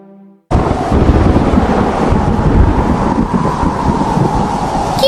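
Strong storm wind roars and buffets the microphone in a loud, continuous rumble that starts abruptly after a brief quiet moment.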